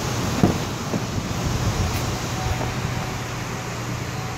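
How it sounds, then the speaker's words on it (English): Heavy rain pours steadily outside, a dense, even hiss of water with a low rumble underneath, loud and unbroken throughout. "Raining like heck here"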